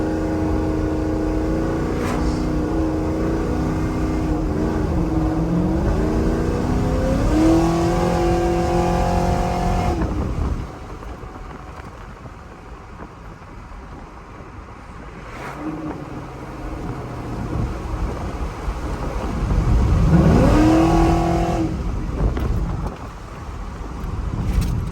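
Cammed GMC Sierra truck with an automatic transmission and 3400 stall converter revving hard in two loud bursts, its rough, choppy idle echoing under a bridge between pulls.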